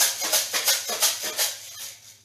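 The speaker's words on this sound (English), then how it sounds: "pasta sounds like this." A homemade maraca-style shaker with a handle, filled with dry pasta, is shaken in a quick regular rhythm, giving bright rattling bursts of hard pieces that fade toward the end, with no talking.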